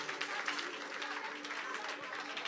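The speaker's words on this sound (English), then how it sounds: "Somebody clap and pray" A church congregation claps during prayer, a steady, fairly distant patter of many hands with a sustained tone and voices mixed in underneath.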